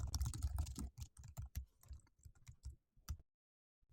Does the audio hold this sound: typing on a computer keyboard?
yes